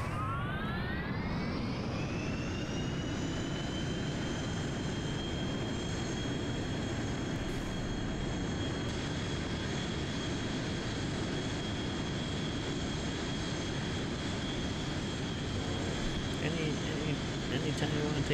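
Engines of a VTOL aircraft in the Kerbal Space Program video game roar in a steady, loud, continuous drone, a high whine rising in pitch at the start and then holding level throughout.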